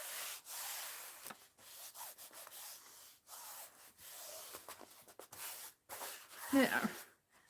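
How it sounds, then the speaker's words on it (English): Paper being rubbed and pressed down by hand onto an art journal page to glue it, close-up scratchy strokes in repeated bursts with brief pauses between them. "Now, let's glue this down a little bit more."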